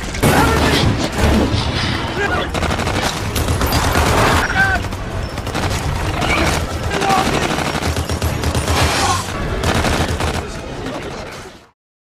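Rapid bursts of gunfire crackle continuously, loud and close, with booms mixed in and voices partly heard beneath the shooting.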